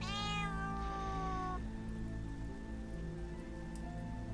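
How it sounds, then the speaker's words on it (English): A cat meows in a long, drawn-out call during the first second and a half, against a steady patter of rain. The cat is lying nearby while a livestream of the game Vintage Story plays. "And we've got a cat laying here"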